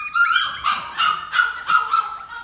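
Labrador and golden retriever puppies whimper and yip in a series of about five high, plaintive cries, close and fairly clear against a quiet background.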